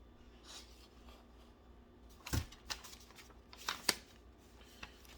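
A paper rocket fin template being cut out, with a few crisp, close cutting and rustling sounds that come in short bursts against a quiet background.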